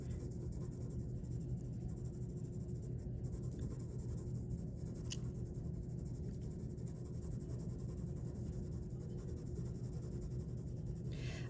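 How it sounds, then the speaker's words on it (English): Graphite pencil shading lightly on paper in small circles gives a soft, continuous scratchy rasp with a low, steady rub, close and quiet, going on without a break. "I'm barely touching the paper, but I'm doing the same motion. I'm kind of making little circles, going up and down."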